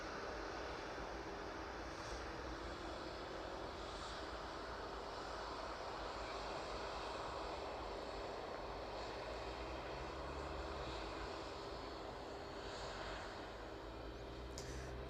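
Boeing 757 jet engines roar on the ground at East Midlands Airport, a loud, steady and sustained drone with no speech over it.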